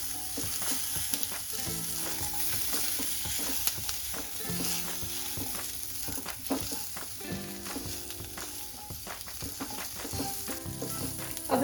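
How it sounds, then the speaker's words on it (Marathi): Ten to twelve garlic cloves sauté in a pan for a soybean curry, a soft continuous sizzle broken by light stirring taps and scrapes, with no talking. "आणि 10-12 लसूण पाकळ्या। हे आता आपण पुन्हा परतून घ्यायचंय।"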